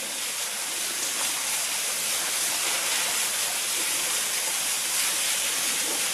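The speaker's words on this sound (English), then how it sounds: "I've come down the steps to the bottom of the waterfall." Waterfall at Mermaid's Cave near Blackheath in the Blue Mountains, heard from the bottom of the falls as a steady, loud, broadband rush of falling water, continuous and unbroken with no voices.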